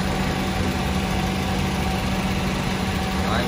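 Used Honda car with a 1.8 engine idling smoothly, a steady, even low hum heard close up with no talking.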